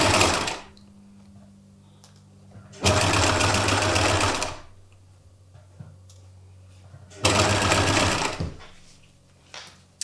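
A sewing machine stitches an invisible zip into a beaded silk top in three loud bursts of rapid whirring, with quiet pauses between them and someone talking softly during the gaps.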